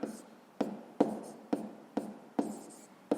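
Pen strokes on paper as a math solution is written out for a sixth-grade exercise: sharp, regular taps and scratches about every half second, close and quiet, with no speech.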